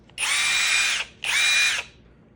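Two loud bursts from a Somada cordless impact wrench on lug nuts of a Ford F-150, each a high rattling whir of just under a second, close up with a short gap between and no speech.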